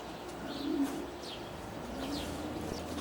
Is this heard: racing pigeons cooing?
yes